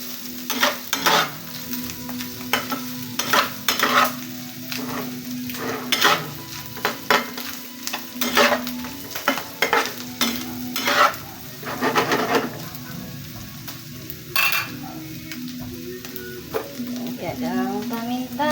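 Garlic sizzles steadily in a pan while a utensil scrapes and knocks against the metal in frequent stirring strokes, close up and moderately loud, with no voices.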